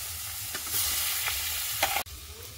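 Fish fries in a pan on a home stove, giving a continuous loud sizzling hiss with a few soft stirring scrapes and one brief clatter near the end.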